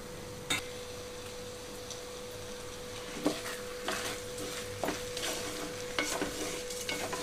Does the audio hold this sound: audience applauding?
no